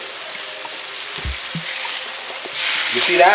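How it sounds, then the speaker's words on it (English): Salmon sears in a hot frying pan, a loud, steady, close sizzle that swells louder toward the end, with a brief voice speaking over it. "That's what we want. Nice searing."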